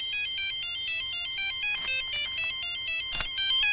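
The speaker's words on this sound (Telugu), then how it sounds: "ఏ ఫోన్ వస్తుందా?" An incoming-call ringtone chimes steadily in a repeating electronic melody, fairly quiet and alone, with a couple of brief knocks partway through.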